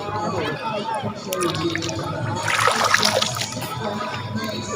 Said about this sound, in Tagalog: Oh, sarap magtampisaw.